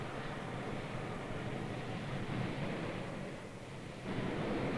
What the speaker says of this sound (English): Great storm waves like these are found where they're blowing for a long time, at high speeds, in the same direction,